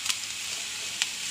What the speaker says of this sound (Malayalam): രണ്ടല്ലി വെളുത്തുള്ളി ഇടണു, ഇഞ്ചി ഇടണു